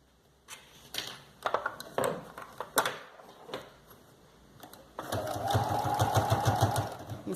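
A sewing machine stitches a seam over folded bias binding, first with scattered clicks and handling knocks, then a steady close run of rapid mechanical stitching that fills the last two seconds.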